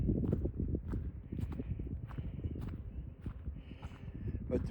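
Several horses walk down a wooded trail, hooves clip-clopping in an uneven, steady rhythm close by, with people talking over them.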